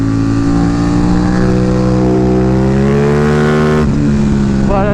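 An Aprilia Tuono 660 motorcycle fitted with a new loud exhaust accelerates hard close by. Its rising engine note climbs steadily, then drops sharply at a gear change before climbing again.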